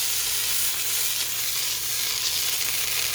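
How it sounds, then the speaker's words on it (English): Butter sizzling and melting in a frying pan for bean soup, a steady bright hiss that stays constant and close for a few seconds with no talking. "I got the butter in the pan and it's cooking. Listen to that sizzle."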